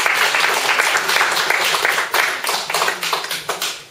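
An audience at a group presentation gives a round of applause, a steady wash of many hands clapping that thins into scattered individual claps near the end.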